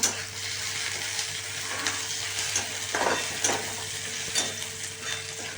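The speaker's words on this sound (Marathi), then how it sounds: "ही लसणाच्या कळ्या ज्या आहेत हे पण आपण काय करूया तेलात टाकूया म्हणजे त्या बी नॉर्मली तळतीला" Garlic cloves frying in hot oil in a home kitchen, a constant close crackling sizzle with a few faint scrapes of stirring, no voices.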